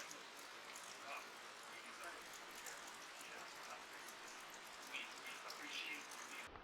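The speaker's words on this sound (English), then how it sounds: "the rain's been coming down pretty steady now" Steady rain patters at a backpacking campsite in the Cranberry Wilderness, West Virginia, a continuous soft hiss of drops on the surroundings, moderately close, holding level throughout.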